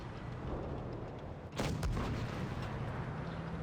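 A single sharp tank-gun blast from a Soviet Tier 8 STG medium tank in World of Tanks Blitz booms out over steady in-game rumble, then rings briefly and fades.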